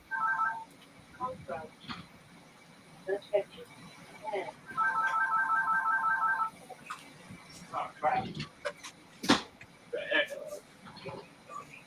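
A work phone ringtone sounding in bursts of bright electronic warbling tones, a short burst early and a longer one in the middle, with people talking close by in between.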